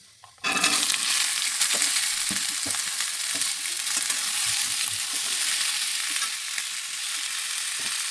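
Chopped potatoes hit hot oil with nigella seeds, bursting into a loud sizzle after a brief quiet start, then frying steadily with scraping stirs and occasional clinks.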